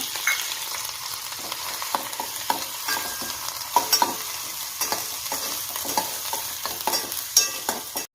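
Mustard seeds and cumin crackle and sizzle in hot oil for a mango sambar tempering, a steady close hiss dotted with sharp pops and a few stirring clinks, no voices.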